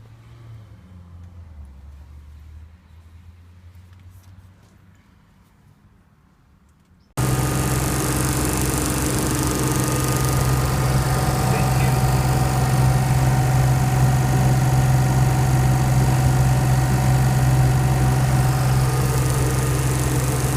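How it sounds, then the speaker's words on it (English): An old Daikin unit's evaporator motor and belt-driven wheel, with slack belts, start up abruptly after a quiet stretch, then run as a loud, steady mechanical hum and whir with a constant tonal drone. "Evaporator motor and the lower wheel"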